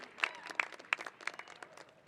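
A convocation audience gives a short burst of applause and cheering, scattered claps and whoops rising in a few sharp peaks, fairly distant and light overall.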